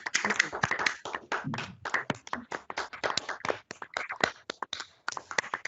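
Sparse, close claps come from a handful of people at the close of a discussion event. They fall in irregular sharp strokes, spread unevenly and never build into a full ovation.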